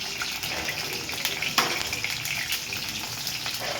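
Cauliflower florets sizzle steadily as they fry in hot oil, a dense crackling hiss filling the background, with a brief louder splutter midway and no talking.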